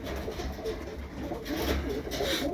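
Birmingham roller pigeons cooing in a loft, a soft continuous murmur of coos close by with no one talking, steady and low throughout.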